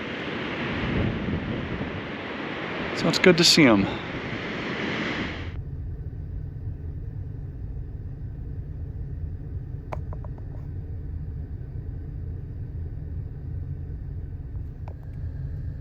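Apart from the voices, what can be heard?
wind at the beach, with surf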